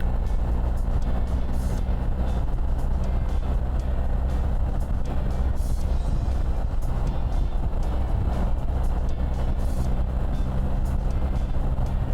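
A BMW R 1300 GS motorcycle rides an open road with a steady, loud engine drone mixed with heavy wind rush, continuous from start to end.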